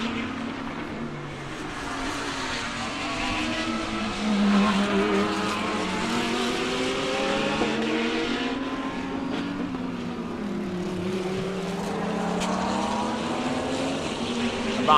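Lamborghini race cars in a SAGTRA racing game passing through turn 1, sustained overlapping engine drones with rising and falling pitch sweeps, moderately loud with no speech.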